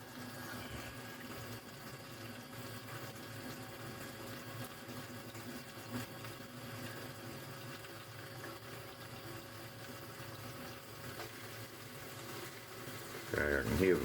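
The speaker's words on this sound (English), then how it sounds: "I can hear the pump starting to gurgle" A bilge pump, larger than usual, draws the last of the water from a boat's fuel bay with a continuous gurgling, churning rush at moderate level, growing louder at the very end.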